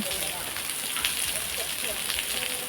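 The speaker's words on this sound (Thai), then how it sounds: "ฝนตก สวยมากเลย" Steady rain pours down at a cave temple in Thailand, a dense, even hiss of drops on surfaces with faint scattered patters, continuous throughout at moderate loudness.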